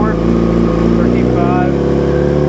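A 2005 Yamaha R6 motorcycle engine runs steadily close by during a charging system check, its pitch lifting slightly with a touch of throttle, under continuous talking.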